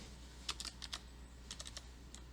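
Quiet computer keystrokes during a VSCode coding session, a few soft clustered clicks in two short bursts over a low steady hum, close and faint, no speech.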